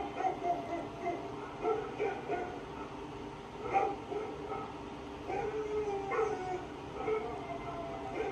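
Dogs howling and whimpering on a TV, a steady run of wavering, overlapping cries with a faint background hum.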